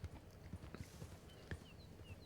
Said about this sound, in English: Is it a horse? I think it's a horse.